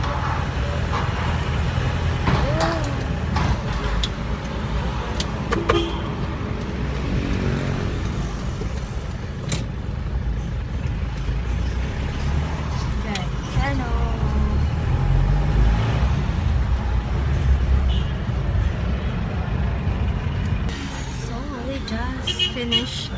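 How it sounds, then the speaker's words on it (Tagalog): Steady roar of traffic on a busy road crowded with motorized tricycles, with engines droning and passing continuously throughout and a voice speaking over the din. "So maraming tricycle, so busy the road."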